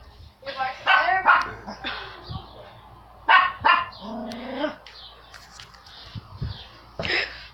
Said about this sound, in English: Supposedly he's barking again.